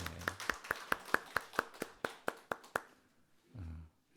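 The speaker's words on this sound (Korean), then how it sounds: "우리 환영의 박수를 부탁드리겠습니다" A church congregation claps in welcome for a visiting couple, about a dozen crisp, evenly spaced claps heard faintly from a distance, followed by a brief low voice as the clapping fades.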